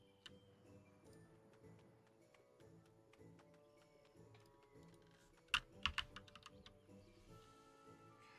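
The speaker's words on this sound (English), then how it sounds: "The other thing too about the loud typing is I was also typing without thinking about um, it being loud" Loud typing on a computer keyboard during a late-night Dofus MMORPG session, with steady clacking keystrokes throughout and a sharper, louder burst of rapid keys near the end, over faint background game music.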